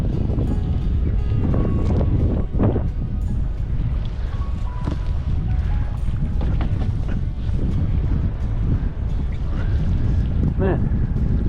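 Strong wind buffets a canoe on a long cross-Canada paddle, roaring steadily into the microphone throughout with gusty rumble, water sloshing against the boat, and a few brief vocal sounds near the end.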